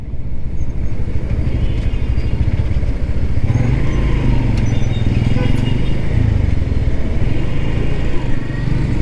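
A Honda CB125 Hornet motorcycle engine drones steadily and loudly throughout, with wind rush and road noise from riding at a constant pace at night.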